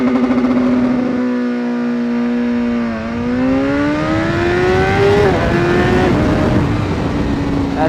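A 2016 BMW S1000RR motorcycle engine runs loud and close, its pitch dipping and then climbing steadily through several smooth revs before settling.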